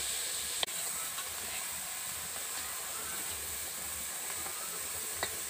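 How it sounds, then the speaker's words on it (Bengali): Prawns fry in hot oil in a wok with a steady, even hiss and sizzle. A couple of faint clicks stand out over the constant frying. "চিংড়ি মাছগুলো আমি ভালো করে ভেজে নেব।"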